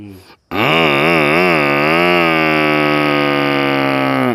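A voice imitates a motorbike starting: a short sputter, then a sustained buzzing engine drone that wobbles in pitch before settling into a steady hum.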